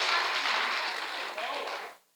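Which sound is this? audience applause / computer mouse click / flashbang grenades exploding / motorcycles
audience applause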